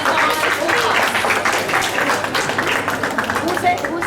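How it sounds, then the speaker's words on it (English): Audience clapping at a school inter-house math quiz, a dense round of applause from students filling the room, with voices talking over it. "The round of applause"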